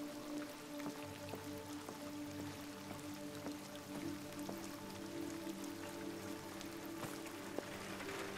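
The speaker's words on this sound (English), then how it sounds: "It's raining." Rain in the video game Detroit: Become Human, a quiet, steady patter of drops with occasional closer drips over a low, faint humming background.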